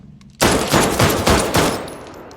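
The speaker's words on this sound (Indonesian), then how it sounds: "Duke langsung mengangkat senjata dan menembak mati Virgil di tempat" Gunfire in a Peaky Blinders film scene: a sudden loud burst of several rapid, booming shots in quick succession, close and dominant, with no talking.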